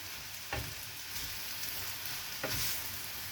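Vegetables including red, green and yellow peppers sizzle steadily in a pan, with two soft scraping strokes of a spoon as they are stirred.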